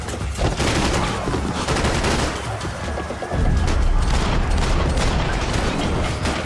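Video game gunfire hits the player from above in loud, dense bursts that roll on almost without a break and grow heavier partway through, with no voices over it.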